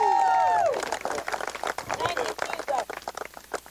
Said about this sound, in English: So if we could just give God a hand clap right now.